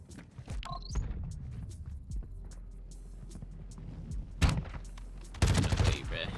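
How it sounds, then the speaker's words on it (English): Gunfire in Warzone 2, the Modern Warfare II battle royale, with sharp loud bursts late in the clip, one around the middle and another cluster near the end, over a low steady game background. "Was that a shotgun?"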